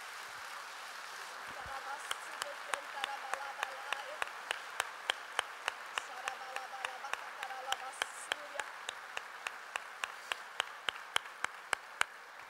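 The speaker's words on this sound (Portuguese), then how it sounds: "pode aplaudir a Deus." A church congregation claps in a steady, even rhythm, the sharp beats fairly faint and distant, with a voice and soft sustained tones underneath.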